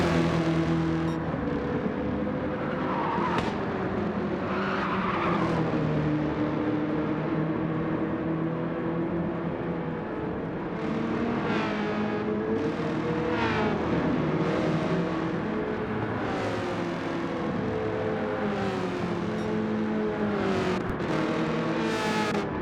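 Race cars roar around Watkins Glen in a racing video game, with engines droning and revving loudly and continuously, several cars passing close by and no voices.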